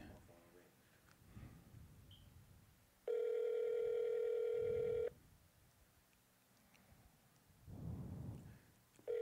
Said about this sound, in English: There we go. The phone is ringing.